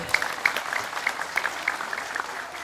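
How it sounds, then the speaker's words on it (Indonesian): A crowd claps for Mbah Nun and the Kiai Kanjeng ensemble at a gathering in Trenggalek, a moderately distant spread of applause with a few sharp individual claps standing out. "Tepuk tangan kagem Mbah Nun kalian Kiai Kanjeng."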